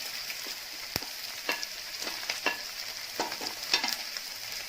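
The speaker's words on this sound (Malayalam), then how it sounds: "ഇതെല്ലാം കൂടി ചെറുതായിട്ട് വഴറ്റിയിട്ട് നമുക്കിത് മാറ്റി വെക്കാം." Capsicum, green chili and spring onion sauté in hot oil for Indo-Chinese chilli cauliflower, giving a steady close sizzle broken by repeated sharp spatula scrapes and clatters against the pan.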